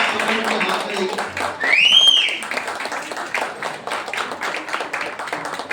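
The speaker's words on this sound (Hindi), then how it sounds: "आइए जोरदार ताली के द्वारा हम पास्टर शैलेश का स्वागत करेंगे" A church congregation at an eighth-anniversary service claps to welcome Pastor Shailesh: a steady, lively run of many hands applauding together, with talk and a brief electronic chirp near the start.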